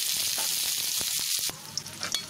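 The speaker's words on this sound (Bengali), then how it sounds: "এবার এটাকে ব্রাউন কালার করে ভেজে দেব" Chopped onions sizzle steadily in hot cooking oil in a wok, a loud continuous frying hiss with brief stirring knocks partway through.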